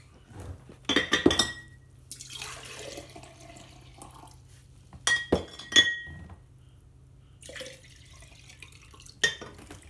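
Salt water poured into glass mason jars for pickling carrots, with bursts of splashing and sharp glassy clinks as the jars are knocked, close and fairly quiet, with pauses between pours and no talk.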